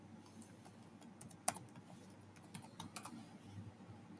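Quick, light keystrokes as a password is typed on a computer keyboard, a short irregular burst of crisp clicks close up in a quiet room.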